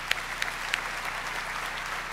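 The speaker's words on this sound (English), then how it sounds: "Let us give all a clap hand to whom I just mentioned." An audience applauds at a public health award ceremony, a steady wash of clapping with a few sharper, nearer claps standing out early on.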